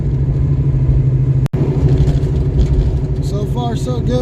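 A project car with a new fuel system and harmonic balancer idles with a steady, deep rumble, close by, while someone talks over the engine noise.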